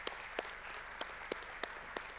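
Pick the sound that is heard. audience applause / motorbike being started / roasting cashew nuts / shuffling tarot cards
audience applause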